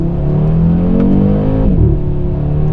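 Audi RS3 five-cylinder engine accelerating on a winter road, a loud steady rising drone with a brief gear-change dip near the end, close and continuous with no talk.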